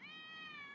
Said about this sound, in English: Get off there, cat!